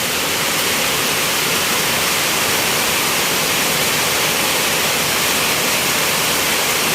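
Heavy rain floodwater pours into a house in a dense, constant roar of rushing water, loud and close with no letup.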